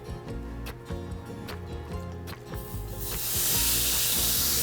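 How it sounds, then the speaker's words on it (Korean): Beef seasoned with perilla oil stir-frying in a hot pan without added oil, with rhythmic scraping clicks of stirring that give way to a loud, steady sizzle close by. "달궈진 팬에 소고기를 넣고 볶은 후 그릇에 옮겨 담아 한 김"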